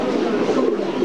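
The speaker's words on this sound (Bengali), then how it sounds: "বিভিন্ন ধরনের পাখি কবুতর আছে এখানে।" Pigeons coo softly and continuously at the Jinjira bazaar pigeon market, a close, brief burst of low throaty calls.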